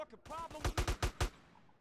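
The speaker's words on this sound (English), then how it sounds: "now I can start killing these guys with AK-47s" AK-47 fire in GTA San Andreas: a rapid burst of about six loud, punchy shots in quick rhythm, preceded by a brief tonal game sound, standing alone without talk.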